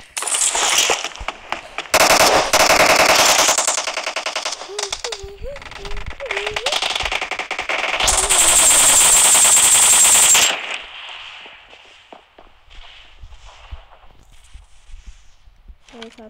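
Machine gun fire from a video game rattles in loud, rapid bursts, long sustained volleys broken by pauses, with a player's voice heard between them before the shooting stops and quieter game sounds remain.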